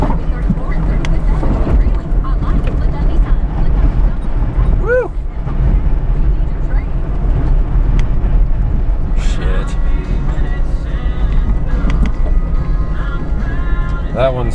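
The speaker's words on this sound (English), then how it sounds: "the wind is blowing like 40 miles an hour" Strong wind of about 40 miles an hour gusts up a valley along a mountain trail, a loud, steady roar buffeting the microphone with continuous rumble throughout.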